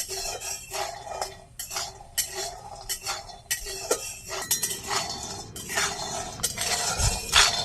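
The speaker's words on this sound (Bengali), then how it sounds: "বড়ি ভাজা হয়ে গেছে, তুলে নেবো।" A spoon scrapes and clinks in a pan of oil where bori lentil dumplings are frying, in a rapid series of metallic strokes over a faint sizzle, close and moderately loud, with no talking.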